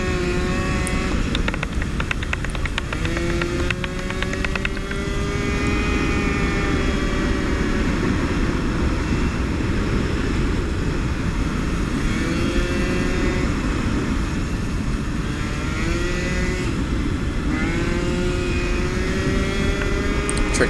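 A mini GP motorcycle accelerates uphill through two right-hand turns during a sprint race. The engine gives a loud, continuous buzzing drone whose pitch climbs and dips with the throttle, with no talking.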